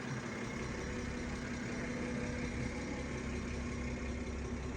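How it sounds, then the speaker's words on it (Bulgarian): BMW 523i with a 3.0-litre petrol engine, rated 204 hp, model year 2011, idling: a steady, even engine hum held at constant loudness throughout, with no voices over it. "мотор на BMW 523 и 204 и 205 коня"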